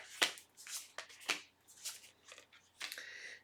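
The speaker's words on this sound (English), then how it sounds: "Let's take a few cards from the universe." Tarot cards being shuffled by hand: several soft, crisp riffling bursts with brief gaps, close and quiet, no talking.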